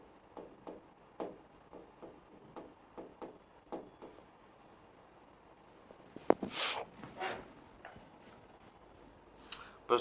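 A teacher writes on a board during a history class, giving a run of short scratchy strokes at a steady rhythm, close and quiet, followed by a few louder knocks and rustles near the end.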